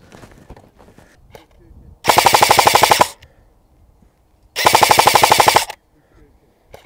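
An AATV Arcturus AT-AK12 airsoft replica firing 0.28 g BBs outdoors on a range, two loud, close full-auto bursts of about a second each of rapid mechanical cracks, with quieter handling noises and a little speech between them.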